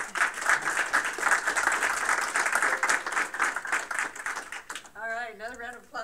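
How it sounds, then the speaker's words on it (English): A crowd at a game studio build review gives a round of applause, a dense sustained clatter of many hands that fades near the end as a voice begins speaking. "Another round of applause for everybody."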